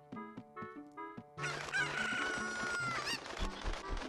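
Chickens in Zelda: Ocarina of Time give a few short clucks, then a loud rooster crow and a flurry of clucking and squawks fill the rest, with no talk.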